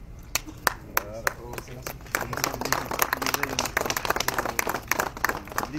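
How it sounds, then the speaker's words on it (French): Audience applause breaks out at a plaque unveiling marking the nationalisation of Somaïr, starting with scattered separate claps and swelling into steady, dense clapping, with voices talking over it throughout. "sous les applaudissements de l'assistance"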